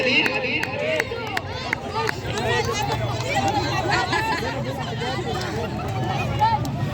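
A crowd at a karate kata performance cheers and chatters in a dense, continuous babble of many voices, close and lively, with a few sharp claps near the start.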